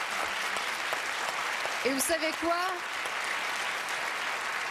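Applause from an audience at a Quebec reality-show taping in the loft, a broad, steady clatter of clapping running under a host's voice throughout.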